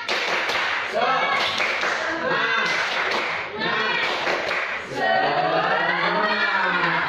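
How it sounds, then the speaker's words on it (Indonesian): A class of schoolchildren performs the 'tepuk semangat' spirit clapping chant, chanting in unison with rhythmic claps and taps in several bursts, loud and close. "Tepuk semangat."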